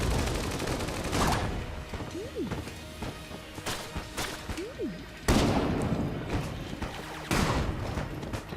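Enter the Gungeon gunfire: bursts of game shots with crashing impacts, louder volleys around the start, middle and end, over a busy layer of game effects and faint background speech.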